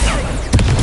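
A spell being cast in the video game Hogwarts Legacy, with a short, loud burst about halfway through that rises out of continuous game music and effects.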